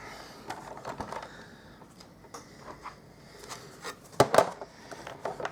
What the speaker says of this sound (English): I'll just pop this through my die cutting machine